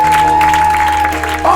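Congregation at a church service clapping and cheering loudly in a brief burst, with a voice talking over the applause.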